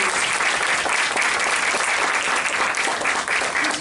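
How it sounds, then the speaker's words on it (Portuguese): Steady, dense applause from a large audience at a swearing-in ceremony in Salvador, continuous and full throughout with no gaps. "Então me permitam aplaudir a"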